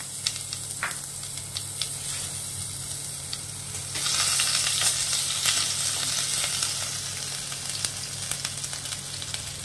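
Ginger paste fries in hot ghee with whole cumin and bay leaf in a pan for a traditional Bengali dish, giving a steady bright sizzle that surges louder midway and keeps crackling with a few stirring scrapes.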